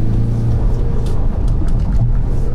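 A Ford Mustang 2.3 High Performance in Sport Plus mode takes a corner, its engine a loud, close, low rumbling drone that holds steady throughout with faint tire and road noise above it.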